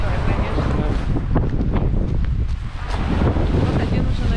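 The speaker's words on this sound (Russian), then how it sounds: "Так такой ветер, волна такая, конечно." Strong wind roars steadily across the microphone by the sea, with a broad rushing noise of waves beneath it, continuous throughout.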